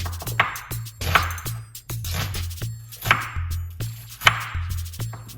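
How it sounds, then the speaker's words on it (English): Knife chopping a purple onion on a cutting board, with a steady run of sharp, close chops in an even rhythm alongside a low background hum. "we're going to cut up these purple onion"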